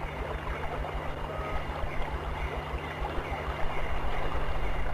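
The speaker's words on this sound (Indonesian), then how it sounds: "Rupanya Raden Purbaya hanya ingin mandi di sungai itu." River water runs as someone bathes in it, a steady, even rush and gurgle with no distinct splashes, continuous and moderately loud throughout.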